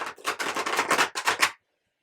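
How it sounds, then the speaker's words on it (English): Tarot cards riffled in a quick shuffle, a run of crisp papery bursts in rapid succession lasting about a second and a half, close and fairly loud, then silence. "We'll give it one more shuffle."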